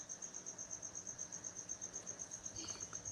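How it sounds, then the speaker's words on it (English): Crickets chirp in a fast, perfectly regular pulsing trill that runs steadily throughout, soft and ambient, with a faint brief bird-like chirp near the end. "The crickets. I hadn't even thought of those till you said that."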